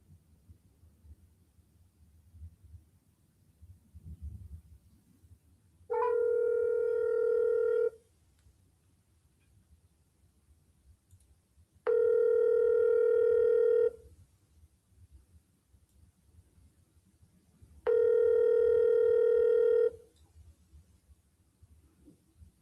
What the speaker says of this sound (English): Let's dial the correct number.